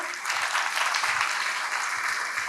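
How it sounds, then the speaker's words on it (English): Audience at a school annual day applauding someone speaker, a steady, dense burst of clapping from a crowd throughout. "Give her a big round of applause"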